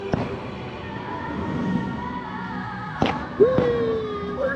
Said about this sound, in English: there's fireworks everywhere